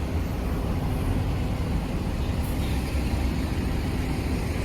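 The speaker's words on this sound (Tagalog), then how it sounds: "Sobrang traffic pagpasok dito papuntang airport" Heavy car traffic on the road to an airport, a dense, continuous rumble of engines and tyres at moderate loudness with no clear single vehicle standing out.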